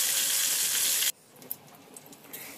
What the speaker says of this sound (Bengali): এবার মাছটাকে তেলের মধ্যে ভেজে নেব।